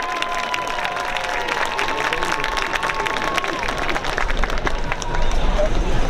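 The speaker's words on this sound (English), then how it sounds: "A round of applause for the graduating seniors of our cross-country team." Steady applause from a large outdoor crowd at a high school football senior night, with scattered cheers and a murmur of voices throughout.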